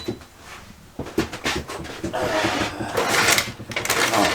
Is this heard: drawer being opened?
yes